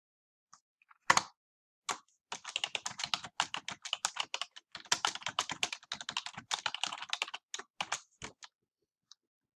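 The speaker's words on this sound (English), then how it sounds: "I'm now going to hit enter so that I can type in my third line" Steady typing on a computer keyboard while drafting a simile poem, a dense run of close, crisp key clicks with brief pauses and a few isolated taps at the start and end, no voices.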